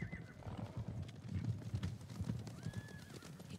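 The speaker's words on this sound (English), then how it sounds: "Horses, they're coming for us." Rhythmic hoofbeats of galloping horses with a brief whinny, set against a busy outdoor ambience in the video game Ghost of Tsushima.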